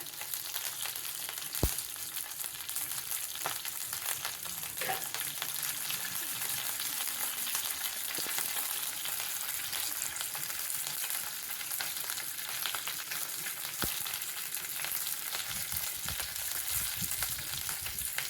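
Chicken with dried chillies, curry leaves and spices fries in oil in a kadai, giving a steady close sizzle throughout with occasional scrapes and knocks of stirring.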